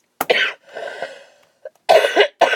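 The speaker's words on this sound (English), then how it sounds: "Now I'm going to start coughing." A person coughs several times in short, harsh bursts close to the microphone, with a brief pause and a rough breath between fits.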